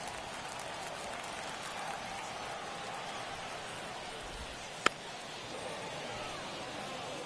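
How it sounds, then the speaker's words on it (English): Rain falling on a baseball stadium in the MLB The Show 24 video game, a steady soft hiss of rainfall with a faint crowd beneath and one sharp click partway through. "Rain kind of picking up here."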